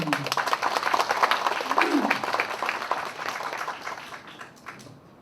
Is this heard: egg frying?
no